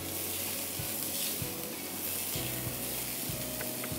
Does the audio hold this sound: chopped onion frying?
yes